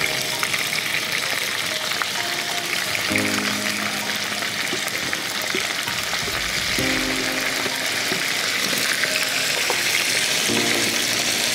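Ground masala frying in a pot over a coal fire for country chicken curry, a steady close sizzle with occasional stirring, and someone speaking now and then.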